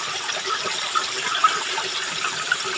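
Spring water from an underground source flowing steadily, a continuous close splashing gush with a few small bright drips on top and no talking.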